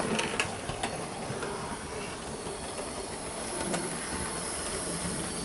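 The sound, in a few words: Bachmann Southern Class E4 model train running on layout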